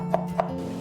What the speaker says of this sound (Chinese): 料头我们只需要切一点生姜跟蒜头就可以了